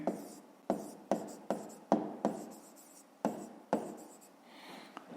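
A pen writes numbers on paper in a fifth-grade math exercise, giving a string of about eight distinct short scratchy strokes in an uneven rhythm, close and quiet.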